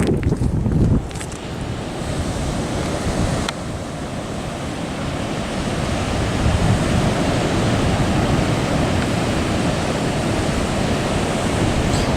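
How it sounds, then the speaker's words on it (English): Strong, steady wind roars across a low-tide beach during beachcombing, buffeting the microphone with a constant rumbling gust and no voices. "And I turn towards the wind here."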